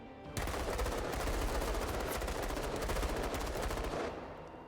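Sustained rapid automatic gunfire from a team shooter video game, a dense close burst of shots lasting several seconds before cutting off.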